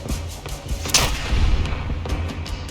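Video game gunfire in the post-apocalyptic world of Fallout: London, a few sharp shots and a heavier boom around the middle standing out over a rumbling, busy background.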